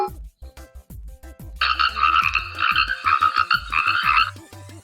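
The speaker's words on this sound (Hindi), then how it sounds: "ये आवाज है मेंढक की।" A frog croaks in a rapid, rhythmic series of loud, close calls. Soft knocking pulses run underneath and stop before the croaking starts.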